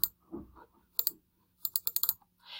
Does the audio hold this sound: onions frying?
no